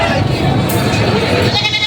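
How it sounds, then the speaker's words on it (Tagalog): Goats for sale at a livestock market in Padre Garcia, Batangas, bleating amid a dense, steady crowd din, with voices talking throughout. "may kambing dito daw na binibenta"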